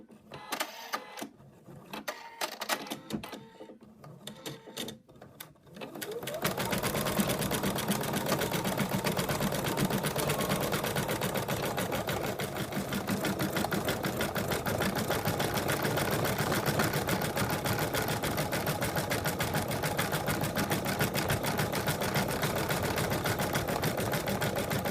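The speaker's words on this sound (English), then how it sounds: "the machine's finished doing all the lettering" An embroidery sewing machine stitches lettering onto a mug rug, its rapid needle chatter starting after a few seconds of quieter clatter and then running steadily and loudly to the end.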